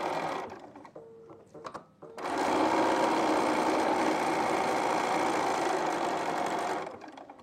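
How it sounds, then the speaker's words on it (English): A sewing machine stitching a quilted postcard runs steadily for about five seconds after a few brief clicks and short starts, its even mechanical whir close and loud before stopping. "Just gonna go ahead and sew this on."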